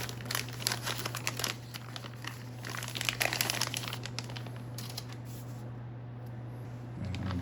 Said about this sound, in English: And Joy-Cons out of the little plastic.